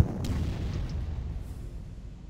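A D-Day battle in the strategy game XXX Corps opens with a deep artillery boom that fades into a low rolling rumble, with no voices.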